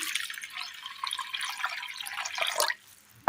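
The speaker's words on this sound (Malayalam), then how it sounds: "ഇതിലേക്ക് നമുക്ക് വെള്ളം ഒഴിച്ചു കൊടുക്കാം" Water trickles and splashes into a pot of chickpeas in a home kitchen, a short close pour that stops abruptly near the end.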